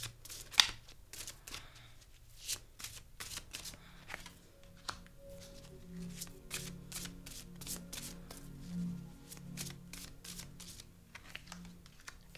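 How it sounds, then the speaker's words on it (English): Tarot cards are shuffled and drawn by hand, making soft riffling and sliding bursts with light taps, close and fairly quiet, in irregular clusters over a faint low background hum. "So I'm going to draw 3 here."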